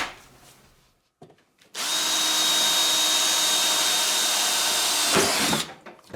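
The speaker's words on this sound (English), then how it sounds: "So I'm going to get a drill bit here, pop a hole in this." A power drill whines steadily for about four seconds, loud and close, drilling a hole during a lawn tractor sleeve hitch install, after a brief quieter stretch of handling noise at the start.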